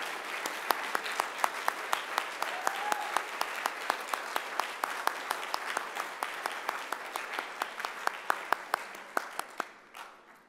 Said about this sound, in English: please rise and give Catherine T. Morris a round of applause for receiving this award